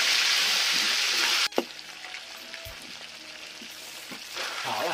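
Catfish slid into hot oil in a home kitchen, a loud broad hiss of frying that drops abruptly as the fish goes in, then a steady softer sizzle with a few clinks and stirring scrapes, swelling again near the end.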